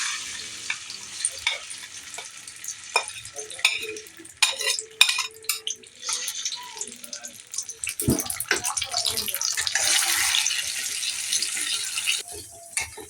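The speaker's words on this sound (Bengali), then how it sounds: "গাজরটা আমরা এখন তাহলে আর ঘি এর মধ্যে ভেজে দিলাম" Blended carrot frying in ghee for halwa: close, continuous sizzle broken by repeated scraping and stirring knocks in the pan, growing busier and louder toward the end.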